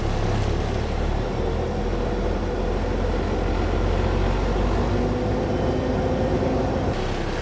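A farm truck engine, prepared for hauling agricultural lime, runs with a loud, steady, close rumble as the gas is pressed, holding a continuous roar with no talking.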